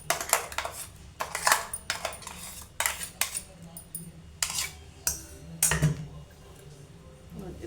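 Glass jar and bowl clinking and clattering on a kitchen counter while jackfruit dosa batter is prepared, several sharp separate knocks and scrapes spread out over a quiet background.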